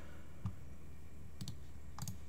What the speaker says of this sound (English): So if I click project C